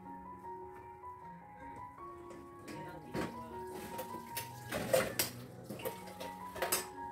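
Food being scraped from a wok onto a plate in a home kitchen, with clattering metal-on-ceramic taps and scrapes building toward the end, fairly close, under a faint background hum.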